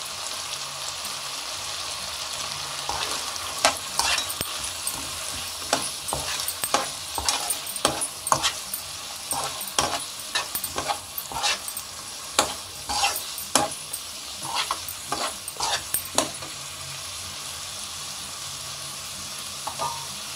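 Salt, coriander powder, garam masala and chilli powder stirred into a sizzling egg biryani masala in a pan, with a steady fry hiss under repeated scraping strokes of a spoon, close and moderately loud, fading to plain sizzle near the end.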